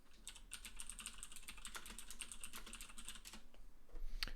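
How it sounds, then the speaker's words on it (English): Steady, close typing on a computer keyboard, with a dense run of rapid key clicks that speeds slightly and ends in a louder flurry of keystrokes. "you just heard me typing"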